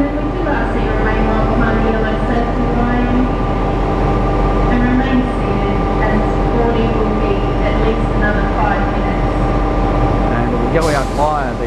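A passenger train in Brisbane rumbles steadily with a constant low drone and mechanical hum, voices murmuring underneath, and a brief screeching squeal near the end.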